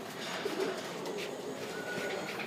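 Caged pigeons or doves coo softly at a moderate distance over a steady, busy background hum of outdoor ambience, with no talking.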